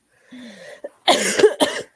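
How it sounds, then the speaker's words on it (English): Two or three harsh, close coughs in a quick cluster, preceded by a faint murmur. "excuse me. I have bit of cough."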